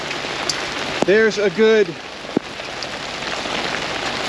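Rain and hail hiss steadily onto a flooded campsite during a storm, a dense constant patter, while a person briefly speaks over it.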